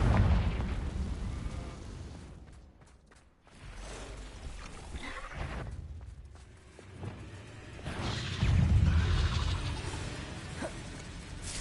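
A Confringo fire spell from the Hogwarts Legacy game goes off in rumbling bursts and whooshing blasts. A loud explosion opens the passage, a second swell comes after a short lull, and the low boom is heavy and close.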